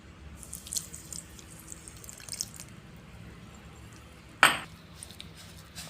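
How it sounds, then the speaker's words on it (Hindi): Milk poured into semolina cooking in ghee for a walnut and peanut halwa, giving a soft liquid splash and sizzle amid faint kitchen clatter, with one brief louder burst near the end. "ये अब हम इसमें दूध डाल दिया।"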